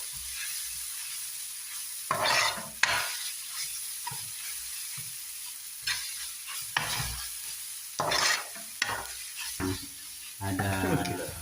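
Indian-style masala beef is stirred in a sizzling frying pan, with a steady low fry hiss broken by repeated scraping strokes of the spoon against the pan.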